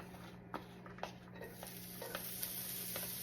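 Garlic being stir-fried in a pan: a faint, steady sizzle with soft, irregular scraping taps as it is stirred.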